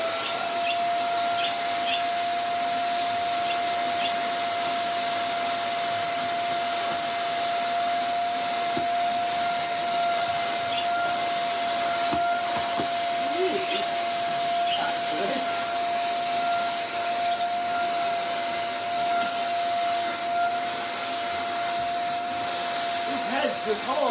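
A corded vacuum cleaner runs continuously while picking up sawdust, a loud close whine with a steady high tone and airy roar, rising slightly as debris is sucked in, with brief speech partly under it.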